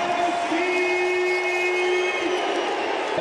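A crowd roars steadily inside a Tennessee basketball arena during a home game. The cheering holds as a continuous wash for the whole short stretch.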